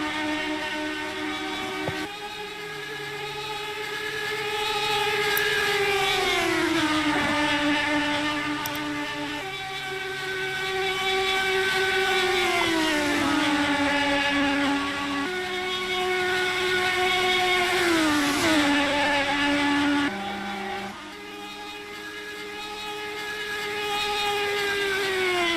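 IndyCar race cars in final practice on Carb Day scream past one after another, high engine whines rising and swooping down in pitch as each passes, loud and continuous.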